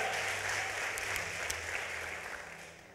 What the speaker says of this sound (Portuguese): Aplauda bem forte a Ele